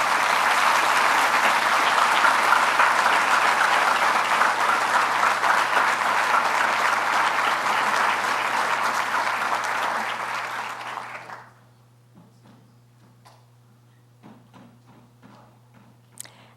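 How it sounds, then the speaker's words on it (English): An audience at the 2015 Young Masters ceremony gives a loud, sustained round of applause for the studio art students, which fades out after about eleven seconds and leaves a few scattered claps and small noises in a quiet room. "May we all give a wonderful round of applause for all of our studio art young masters"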